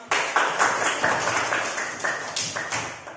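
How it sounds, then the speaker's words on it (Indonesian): Students in a classroom clap in a steady patterned rhythm after group work, a run of sharp, evenly spaced claps at moderate volume with no talking over them. "Tepuk tangan untuk kita semua."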